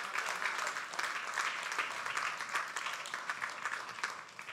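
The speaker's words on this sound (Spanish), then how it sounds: "Dale un aplauso, Señor, claro que sí." A church congregation applauds during a Spanish-language worship service, a dense, steady patter of many hands clapping together that continues evenly throughout without pause.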